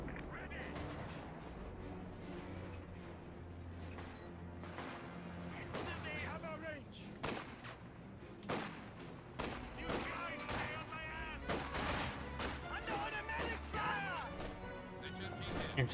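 Battle sounds from the strategy game Company of Heroes 2, with a T-34-85 tank, MG42 machine guns and artillery: dense overlapping booms, sharp shots and crashes throughout, under a commentator's steady talk.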